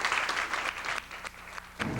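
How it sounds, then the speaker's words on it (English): Round of applause from an audience, a brief burst of steady clapping fading toward the end, with a fresh swell just before it cuts off, moderately quiet and slightly distant. "they should get a big round of applause for that."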